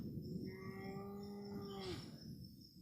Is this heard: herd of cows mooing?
yes